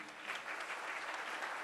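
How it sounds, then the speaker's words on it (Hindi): Audience at a satsang in Indore applauding together, a brief, even wash of many hands clapping at moderate distance with no speech over it. "आज तो तालियों में इतनी गूंज है"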